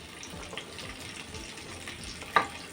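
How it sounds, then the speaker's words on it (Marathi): Capsicum and onion fry in hot oil, a faint low sizzle with a single sharp clink of a utensil near the end. "तेल गरम झालेलं आहे आता आपण त्याच्यामध्ये शिमला मिरची घेतली आहे आणि कांदा घेतला आहे असं पीस करून ते परतून घ्यायचं आहे"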